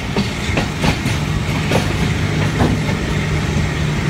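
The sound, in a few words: Pakistan Railway rail car arriving at station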